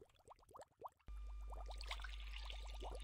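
Liquid pouring in the video game Gold Scraping Simulator: a gurgling, bubbling trickle that cuts in abruptly to a continuous, fuller stream over a low constant drone, with no talking.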